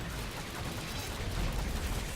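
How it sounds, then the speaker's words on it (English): Dense, continuous barrage of explosions and gunfire-like blasts from the Orcs Must Die! Unchained video game on the Storm Drain map, a loud, steady roar of overlapping booms with no pauses. "Alright, got a good amount of explosions."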